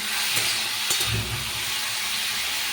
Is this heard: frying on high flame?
yes